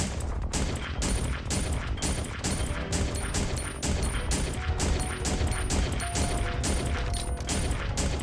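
Rapid, repeated pistol gunfire in a Resident Evil game, aimed at Tyrants: a steady string of sharp shots with crashes and impacts, loud throughout over dense game noise and faint background music.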